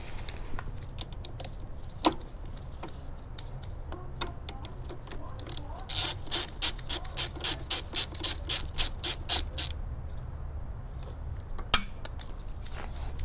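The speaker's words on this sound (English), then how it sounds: "I'm gonna go get a wrench so that I can unscrew this bolt" A wrench ratchets a bolt loose on a Kawasaki Z650 motorcycle, producing a steady run of about a dozen sharp metallic clicks in even rhythm, preceded and followed by scattered taps and clanks, quiet and close.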